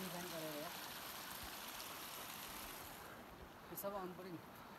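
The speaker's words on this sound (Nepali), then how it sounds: "हिमालबाट कल भएको खोलाको पानी" A Himalayan mountain stream on the trek to Gosaikunda rushes in a steady broadband wash of flowing water, with brief faint voice-like tones near the start and end.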